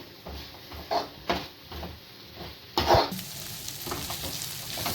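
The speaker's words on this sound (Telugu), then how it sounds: "చేపలు అయితే నూనెలో మంచిగా ఫ్రై అయినాయి కదా" Dried fish frying in oil in a pan for a tamarind curry, a hissing sizzle with several scraping stir strokes and a louder clattering scrape near the end, no voices.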